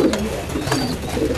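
Pigeons coo in a loft full of kept birds, a soft, close, continuous murmur of overlapping calls with no talk.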